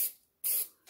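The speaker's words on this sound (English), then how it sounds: "I'll spray both surfaces." Aerosol can of contact adhesive sprayed onto a seat for a 1985 Honda ATC 350X, two short close hissing bursts with a brief pause between them.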